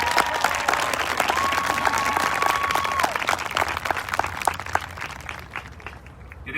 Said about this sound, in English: Another round of applause for Celeste Carrasco on her way to Harvard.